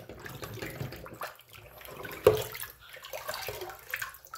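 GP5 gas mask parts soaking in a basin of water: irregular sloshing and splashing as the pieces are moved about, with one sharper splash midway, close by and without speech.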